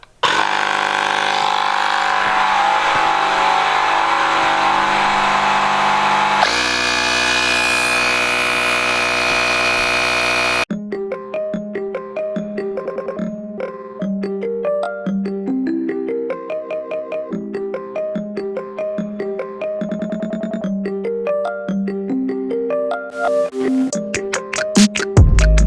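A pocket-sized portable tire inflator runs with a dense, steady motor buzz for about ten seconds. Tonal music then follows for the rest of the clip.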